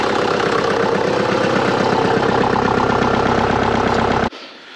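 A John Deere 6000-series tractor engine runs loud and close, rumbling steadily with a rhythmic chug while revved during an oil change check, then cuts off abruptly near the end, leaving quiet background.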